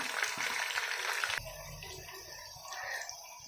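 Chicken pieces fry in a hot pan with a dense, hissing sizzle that cuts off abruptly partway through, leaving quieter clinks and faint bubbling.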